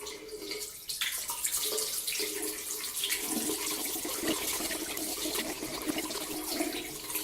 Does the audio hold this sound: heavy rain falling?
no